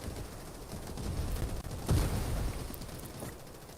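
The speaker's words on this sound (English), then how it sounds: "Gunfire from all directions now." Gunfire rattles in the battle royale Farlight 84, a dense, steady wash of shots with one heavier burst near the middle, moderately loud and coming from several directions, with no talk.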